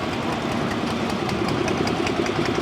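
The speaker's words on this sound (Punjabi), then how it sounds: "ਇਹਨੂੰ ਚਲਾਉਣ ਇੰਜਨ ਲਾਇਆ ਆਪਾਂ" A small engine powering a homemade potato digging machine runs steadily nearby, a constant rumbling idle with a slight rhythmic knock and no voices.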